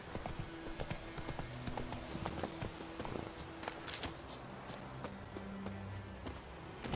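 Horse hooves clip-clop steadily at a quick pace while riding in the video game The Witcher 3, with a faint whinny and light background game ambience.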